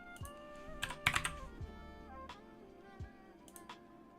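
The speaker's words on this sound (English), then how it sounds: "I can hear the keyboard more than you" A computer keyboard is typed on in short irregular bursts of close, crisp clicks and key taps, fairly quiet, with no talk over it.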